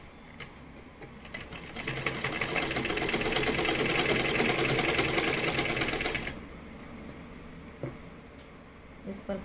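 A sewing machine stitches a 1.5 inch wide fabric strip for a square neckline finish, running in a loud, rapid, steady burst for about four seconds before stopping, with quieter handling sounds afterward.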